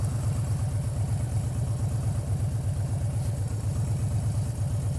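A motorcycle sits idling in a traffic jam queue, a steady low rumbling engine pulse that holds even and continuous throughout, close by with no talking.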